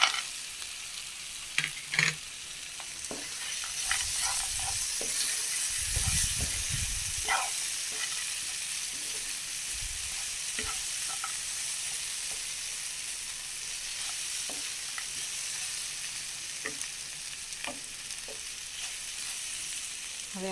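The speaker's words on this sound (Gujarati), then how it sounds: "હવે આપણે તેમાં સિંગદાણા પણ ઉમેરી દઈશું।" Peanuts sizzle and fry in a pan with a continuous bright hiss, broken by scattered sharp crackles and a few stirring scrapes, close and even throughout.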